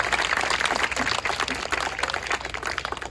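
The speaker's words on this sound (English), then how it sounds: "A round of applause for the students." Students at a K-8 school yard ribbon cutting receive a round of applause, with dense, lively clapping from a gathered crowd that rises and falls slightly over a few seconds.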